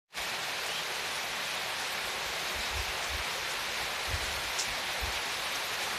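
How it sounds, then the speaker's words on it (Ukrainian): Steady, dense hiss of rain falling, constant and even throughout, with faint low thumps of drops nearby. "Нарешті в нас пішов дощ."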